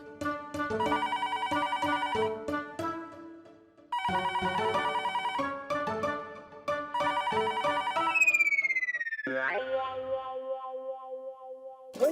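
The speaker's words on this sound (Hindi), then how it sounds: "फिर से फोन?" A telephone rings in repeated bursts of electronic trills with short gaps between them. It ends in a descending warble, and no one speaks over it.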